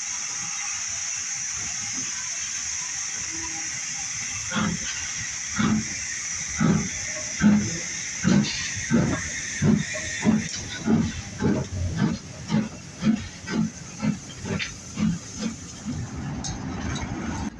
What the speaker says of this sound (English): I do actually have a little bit of footage of a steam train that was operating,